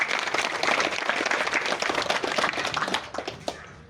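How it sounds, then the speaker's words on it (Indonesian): A crowd claps steadily at a Batak cultural gathering with gondang and tortor, a dense, continuous burst of applause that thins out toward the end. "Tepuk tangan."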